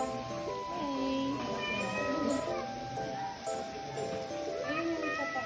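A big cat at a mini zoo in Ilocos gives repeated drawn-out wavering meows and caterwauls, loud and near, while people, including children, talk and react in the background.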